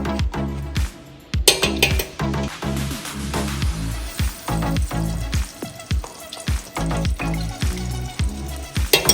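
Butter sizzling and frying in a hot pan while curry rice is cooked, a steady crackle broken by repeated sharp clinks and scrapes of utensils against the pan, close and fairly loud.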